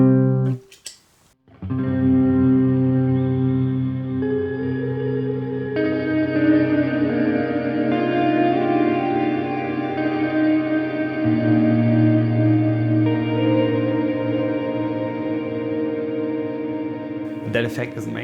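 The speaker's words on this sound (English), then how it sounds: "The other thing I use Mood for is a wet reverb." Electric guitar through a Mood pedal set to a wet, washy reverb, sustained chords and notes blooming into a long ambient tail that holds steady for most of the stretch before cutting off.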